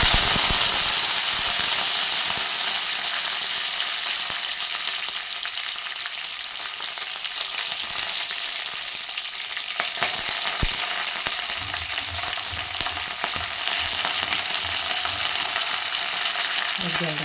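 Flat beans (chikkudukaya) fry in a pan with a steady, close hiss and sizzle throughout, joined by brief stirring scrapes and clatters partway through.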